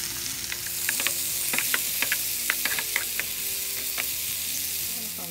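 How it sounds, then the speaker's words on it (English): Peppers sauteing lightly in a hot pan, a steady close sizzle with scattered crackles and brief stirring scrapes and ticks, no voices. "We're just going to saute them lightly"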